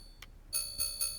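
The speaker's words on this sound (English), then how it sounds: "bells ringing." Bells ringing from a hint button in a video game, a faint short ting followed by three quick bright metallic rings in succession.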